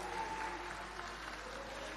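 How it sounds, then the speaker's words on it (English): An audience at a youth conference plenary applauds to welcome a speaker, a steady, somewhat distant and muffled wash of clapping lasting a couple of seconds with no talk over it. "A round of applause, please, to welcome our last speaker"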